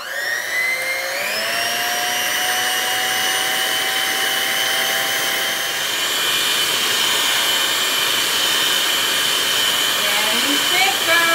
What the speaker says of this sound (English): we're gonna start off using our whisking attachment and we're gonna blend this until it becomes whipped cream.